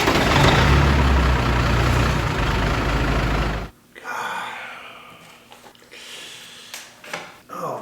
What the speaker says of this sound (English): that almost sounds like our gray Freightliner